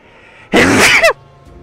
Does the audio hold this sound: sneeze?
yes